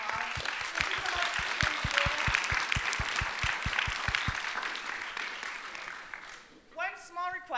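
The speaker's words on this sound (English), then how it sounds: "let's give our presenter a fantastic round of applause" An audience applauds a conference presenter at a housing and mortgage affordability session, with a dense wash of clapping that tapers off partway through, followed by a voice starting to speak near the end.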